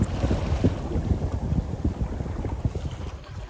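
Steady, blustery wind of about 8 knots roars close across the microphone on a sailboat as a squall approaches, with the rush rising and falling in gusts over the water and no voices.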